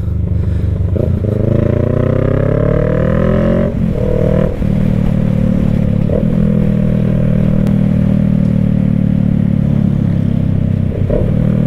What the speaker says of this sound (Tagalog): Medyo traffic dito mga motor,